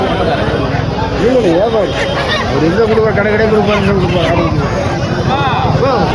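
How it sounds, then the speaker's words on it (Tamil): Many chickens cackle and honk at once, close and loud, over a busy crowd of voices at an early-morning market. "எவ்வளோ கோழிகள் வாங்கி போட்டிருக்கான்னு பாருங்க"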